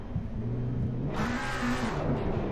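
Race car engine in Assetto Corsa Competizione revving back up after stalling on the Misano circuit, a steady hum that climbs into a brighter, louder whirring drone midway, continuous and close.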